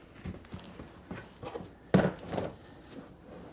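A plastic mortar tray is slid and switched over, giving a series of scattered scrapes and light knocks, with one louder hollow thunk near the middle. It sounds close and has no talk.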